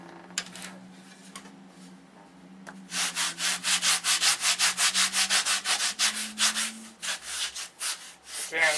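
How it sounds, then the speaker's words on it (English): Wood flaps hand-sanded with 220 grit sandpaper: after a quiet stretch with a faint low hum, steady rhythmic back-and-forth scratchy strokes begin close up and repeat evenly for several seconds. "sand with the 220 to finish off the shape"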